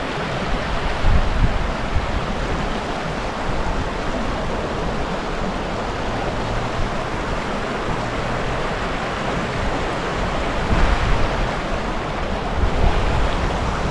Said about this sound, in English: I want to get the trickling water.